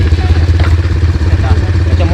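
An ATV engine runs steadily close by with a low, throbbing idle-like rumble and some clatter, while people talk over it.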